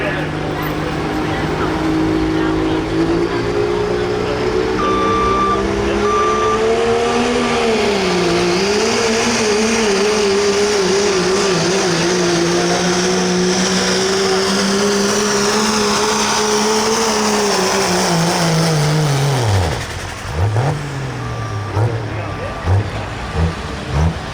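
A pro street diesel pickup at a Sedalia, Missouri truck and tractor pull, its engine spooling up loud and close. The drone rises and wavers for about twenty seconds, then dips and pulses briefly near the end, with an announcer talking over it.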